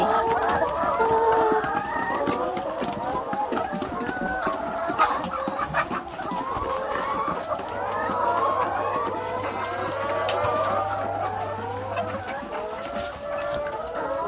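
Several laying hens cluck and murmur continuously at close range during feeding, with occasional louder calls rising from the flock.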